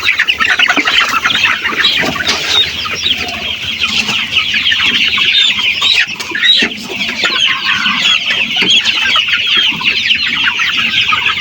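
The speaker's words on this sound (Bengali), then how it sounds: "আমরা মাঝারি দিকে একটা মুরগি ধরে নিয়েছি।" A medium-sized Sonali super hybrid chicken, held in the hand on a poultry farm, clucks and squawks continuously and loudly, with a dense, agitated chorus of other fowl close around it.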